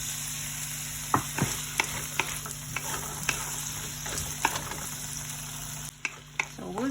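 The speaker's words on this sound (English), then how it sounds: "So we'll just stir that one until it would be soft." Tomatoes and clam meat cooking in a pan, a constant frying sizzle with periodic sharp clicks and scrapes of a spoon stirring, close and steady throughout.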